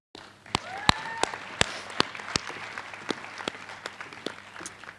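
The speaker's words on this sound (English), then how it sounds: "Yeah, you can clap for them." Audience at a high school graduation ceremony applauding, with sharp, distinct claps ringing out over a steady wash of clapping from a crowd indoors.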